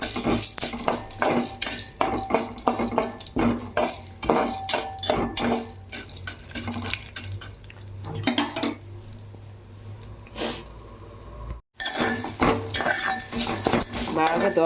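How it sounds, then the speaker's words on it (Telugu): Urad dal is stirred as it roasts in a pan on low heat, with a spoon repeatedly scraping and clinking against the metal. Someone talks throughout over the close, steady stirring. "మినపప్పు వేయించుకోవాలి."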